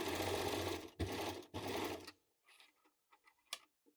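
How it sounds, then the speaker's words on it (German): An overlock machine sews a sweater sleeve in a short run of loud, even whirring that is cut by two brief stops, then gives way to quiet handling noises and small clicks. "Beim Nähen mit der Overlock liegt der Ärmel oben."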